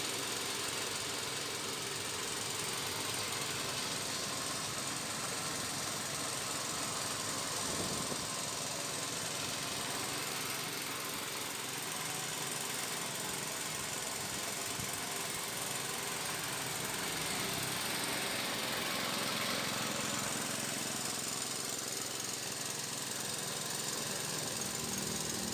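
An air compressor runs steadily while varnish is spray-painted onto a 1981 Colt T120 finished in glossy black, giving a loud, unbroken mechanical drone and hiss across the whole stretch with no talking.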